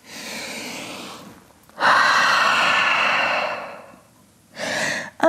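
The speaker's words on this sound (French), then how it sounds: "Et grande respiration en chien tête en bas." Deep, slow breaths during a vinyasa yoga session in downward dog pose: a long inhale, then a louder, fuller exhale, and another breath starting at the end, close and alone with no talk.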